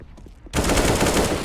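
Gunfire in CS:GO erupts after a short quiet lead-in: a loud, close burst of rapid rifle shots continues without pause to the end.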